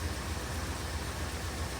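A Chevy car engine idles steadily after being started, a continuous low rumble with a faint even pulse and no voices.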